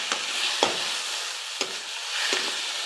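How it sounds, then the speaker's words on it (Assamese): Eggs fry in a non-stick wok with a steady, soft sizzle, broken by a few sharp scraping clicks of stirring. "ইয়াতে এতিয়া কণীখিনি মই ফ্ৰাই কৰি ল'ম।"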